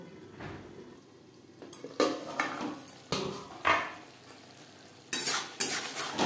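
A pan of katla fish curry with potatoes is covered with a lid after the flame is turned low. Several sharp metallic clanks and scrapes ring out over a faint sizzle, spaced irregularly.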